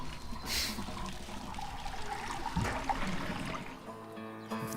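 Fuel pouring into a car's tank in the video game A Way Out, a steady liquid trickle and gurgle running continuously over a low ambient bed.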